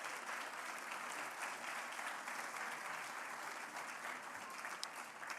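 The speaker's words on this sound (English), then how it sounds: "I'd like to call Nicole on stage with a big round of applause of everybody." Applause from the audience at a World Tourism Day 2024 event as a guest is called on stage, a soft, steady, distant wash of many hands clapping that holds evenly for over five seconds.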